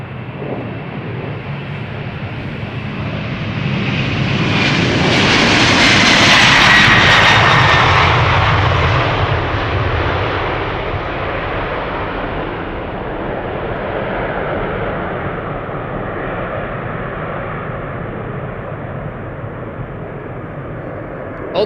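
A CRJ jet airliner departs Amsterdam Schiphol Airport, its engine roar swelling to a loud peak as it passes, then fading into a long, broad rumble that lingers at a distance.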